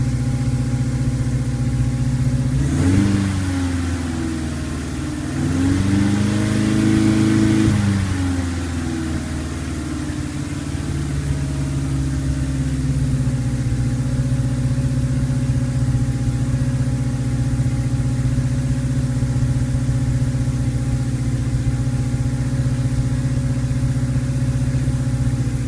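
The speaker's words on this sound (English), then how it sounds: "As I rev the car, you can see the voltage increase." A Subaru EA82T turbo engine is revved a couple of times, the pitch climbing and falling, then it settles into a steady, close, humming idle that continues alone.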